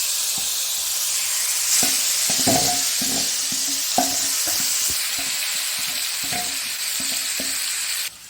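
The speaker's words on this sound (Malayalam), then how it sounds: "ഇനി നമ്മൾ മാഗ്നേറ്റ് ചെയ്ത് വെച്ച ഇറച്ചി ഇതിലേക്ക് ഇട്ട് കൊടുക്കുക." Marinated chicken drops into hot coconut oil and fries with a steady, bright sizzle, broken by repeated knocks and scrapes of stirring, close by, with no talking.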